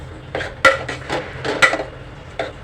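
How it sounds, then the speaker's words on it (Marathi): Jaggery and cucumber are stirred together in a metal pot for Malvani dhondas, a series of close, sharp clanks and scrapes from a spoon against the pot at an uneven pace, with no talking. "गुळ आणि काकडी छानपैकी शिजू दे ती पाच सहा मिनटं मिक्स करा चांगला"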